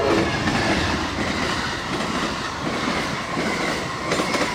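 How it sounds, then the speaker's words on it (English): An Amtrak passenger train rolls past nearby in Lakeland with a continuous rumble and rhythmic clatter of wheels on rails, loud and steady throughout. "This was Amtrak 91, inbound to Tampa, I guess."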